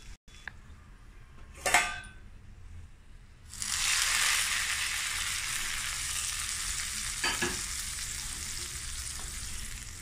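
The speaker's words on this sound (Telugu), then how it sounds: "ఈ బాదం చాలా తొందరగా వేగిపోతుంది" Almonds fry in a hot pan with a steady bright sizzle that swells after a few utensil clinks and stirring scrapes, then holds loud and even while being cooked for apple kheer.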